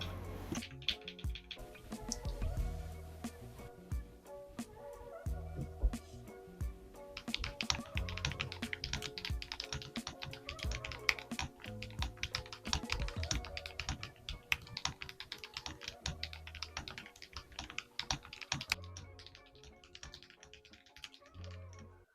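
Brisk, continuous typing on a wooden-cased mechanical keyboard, crisp clacky keystrokes in quick bursts, close up with no talking.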